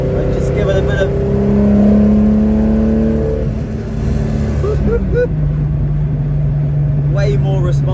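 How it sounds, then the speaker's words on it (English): A car engine fed by triple Weber carburetors revs under the driver's throttle blips and a downshift to third, loud and close inside the cabin, with a steady drone and pitch swings as the gear changes. "Just tapping the accelerator, changing down to third, and just give it a bit of"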